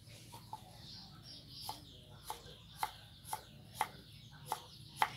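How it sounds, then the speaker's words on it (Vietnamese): A knife chops jicama and tofu finely on a cutting board, sharp close taps landing roughly every half second against a faint background hum. "Nè, cái phần củ sắn này, với lại tàu hũ rồi mình sẽ xắt cái hết, mình sẽ xắt nhuyễn ra nha các bạn."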